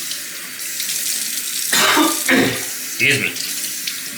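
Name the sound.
tap water running to wet a synthetic shaving brush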